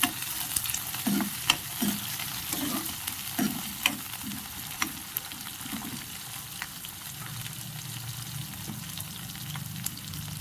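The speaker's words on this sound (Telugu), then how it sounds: "పచ్చిమిర్చి, కరివేపాకు కూడా వేసుకోవాలి. వీటన్నిటిని కలిపి కాసేపు వేయించుకోవాలి." Green chillies and curry leaves with onions frying in a pan, a steady close sizzle broken by repeated scraping stirs with a utensil. No one speaks.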